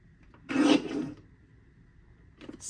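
A scrapbook paper strip is sliced on a paper trimmer in a single rasping cut lasting about half a second, close and clear, followed by quiet and a faint scrape at the end.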